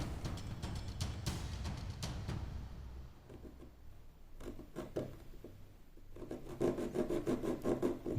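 Hand saw rubbing back and forth through a small wooden model kit part, close and fairly quiet, with rhythmic scraping strokes that pause midway and resume more strongly near the end.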